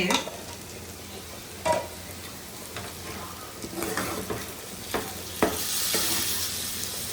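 Chicken fry being stirred in a hot pan after garam masala goes in, soft sizzling underneath with scattered scrapes and knocks of the spoon against the vessel, a few sharper clinks standing out near and clear.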